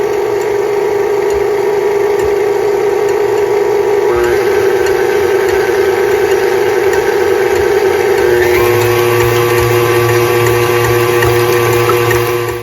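An electric mixer whips egg whites with cream of tartar, running as a steady loud whir and then stepping up in pitch as the speed is raised partway through, with no talking.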